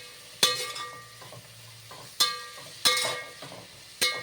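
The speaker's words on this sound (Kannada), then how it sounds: "ಸೊ ಕಹಿ ಹೋಗೋವರೆಗೂ ಕ್ಲೀನಾಗಿ ಫ್ರೈ ಮಾಡ್ಕೋಬೇಕು." Fenugreek greens fry in a pan with turmeric and salt, a soft steady sizzle broken by four sharp clinks of a spatula stirring against the pan.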